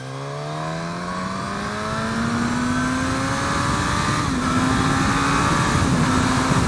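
A 2017 Suzuki GSX-S1000 motorcycle accelerating hard with traction control off, its loud, close engine note climbing steadily in pitch through the gears, with no talk.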